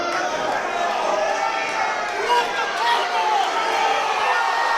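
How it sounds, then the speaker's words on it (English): A wrestling event crowd roars and cheers in a sustained, dense wash of noise at an indoor show, loud throughout with excited chatter underneath and no distinct breaks. "this crowd going crazy for that table"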